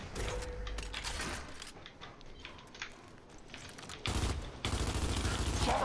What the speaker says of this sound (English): Shots are just flying out of nowhere.